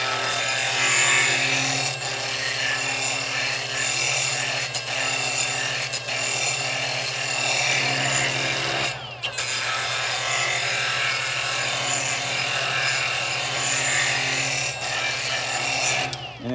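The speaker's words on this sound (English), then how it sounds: "You just take this barrel sander," A barrel sander grinds steadily against a metal bracket, shaping a machined edge with a continuous loud abrasive whir and a brief dip midway, no talking.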